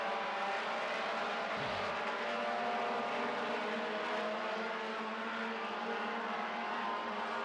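Four-cylinder stock cars racing at a feature event, a steady blend of engine whine heard from a distance that stays constant throughout, with a faint pitch sweep partway through as cars pass.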